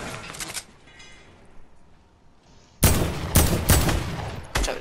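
Gunfire in a Fortnite firefight: after a stretch of quieter rattling, a sudden burst of loud, close shots arrives in several heavy cracks, with short pauses between volleys.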